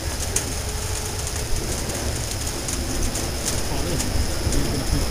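A train in flood-soaked prairie country heard from inside the caboose, a steady rumbling rattle of the moving car with a few clanks, and birds cooing faintly nearby.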